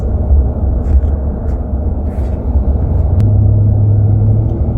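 Road noise from inside a moving truck, a steady loud low rumble of engine and tyres that swells slightly and holds an even drone throughout.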